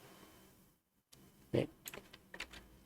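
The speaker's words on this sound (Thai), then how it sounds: "เราก็กดที่แป้นคีย์บอร์ดของเรานะครับ กดคอนโทรลค้างไว้ กด F" Keys on a computer keyboard are pressed for a Ctrl+F shortcut, giving a handful of close, crisp clicks after a brief silence, with a few lighter taps trailing off.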